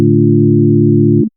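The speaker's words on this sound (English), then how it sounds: "that really soft sine wave sound" A soft, pure sine wave tone from the Arturia Pigments synthesizer holds steady at moderate volume for just over a second, then stops abruptly.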